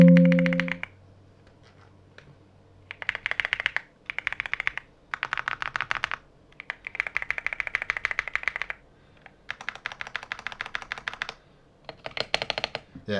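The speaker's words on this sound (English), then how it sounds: "I'm gonna get close to the keyboard now, and I'm gonna type some stuff" Close, crisp keystrokes on an MSI Forge GK600 TKL wireless keyboard come in several bursts of rapid typing with short pauses between them.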